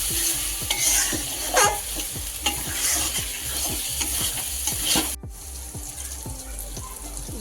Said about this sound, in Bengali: মাংসটা পুরো কাঁচা লঙ্কার ঝালে হচ্ছে